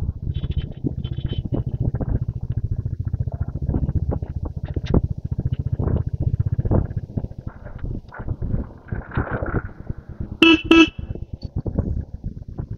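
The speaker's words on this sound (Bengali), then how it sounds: "হর্নও খারাপ না, হর্নের সাউন্ডও বেশ ভালোই।" A 2025 Gunmetal Grey Royal Enfield Classic 350 motorcycle sounds two quick, bright horn toots near the end, over the steady low thump of its idling single-cylinder engine, heard up close.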